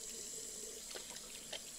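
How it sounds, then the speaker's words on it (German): A faucet runs into a sink inside the video game Captain Spirit, a steady quiet stream of water with a few small splashes and clinks over it, heard alone. "Gut, benutzen wir den Wasserhahn mal."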